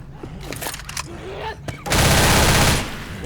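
A burst of gunfire in the zombie shooter Left 4 Dead, a few sharp shots early then a dense loud rattle of rapid fire for about a second, with faint game sounds between.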